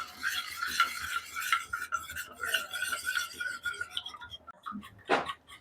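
A spoon stirs a milk mixture in a cooking pot, making steady scraping and swishing close by for several seconds, with a short sharper scrape near the end.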